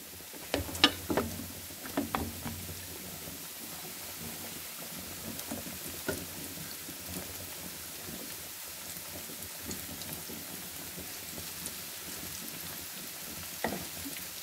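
Chicken pieces frying gently in a pan over low heat, giving a soft steady sizzle with faint crackles throughout, a few louder pops and utensil clinks near the start, and no talking.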